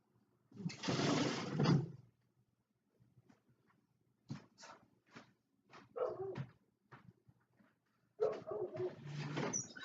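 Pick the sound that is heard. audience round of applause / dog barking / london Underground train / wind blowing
dog barking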